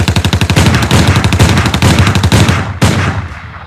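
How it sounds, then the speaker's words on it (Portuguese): Rapid automatic gunfire in a gunfight between thugs and police rattles in dense, loud, continuous bursts, ending with a sharp final crack and fading echo. "um tiroteio entre os capangas de Frank e os policiais inicia."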